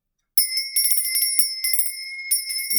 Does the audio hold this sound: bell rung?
yes